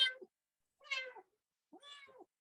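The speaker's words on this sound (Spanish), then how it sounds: "Hay un gatito que suena" Small kitten meowing three times at an even pace, thin and fairly faint, each cry rising and falling with quiet gaps between, heard alone indoors.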